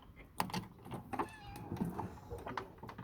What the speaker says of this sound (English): Whoa, kitty. And there we got a cat.